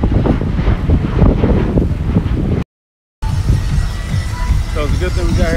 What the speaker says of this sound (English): As you guys can see, it's extremely windy out here.